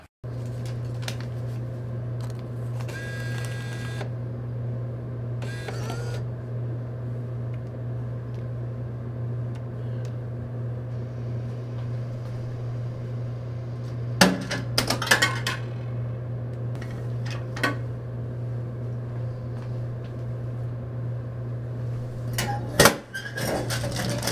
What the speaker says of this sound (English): I went over to the soda and candy machines.